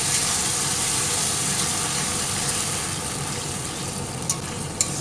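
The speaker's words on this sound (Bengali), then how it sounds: "লবণ হলুদ সব দিয়ে নিয়েছি এবার সুন্দর করে কষে নেব" Spices fry in a pan with salt and turmeric, giving a soft, even sizzle that stays steady and fairly quiet, broken near the end by a couple of light clicks of a utensil.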